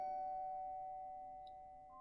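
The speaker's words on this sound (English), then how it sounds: "Why do I need to ring the bell of my own house?" A doorbell rings at a house door in a horror video game, one steady electronic tone held clearly and alone, with a faint higher chime near the end and no voices.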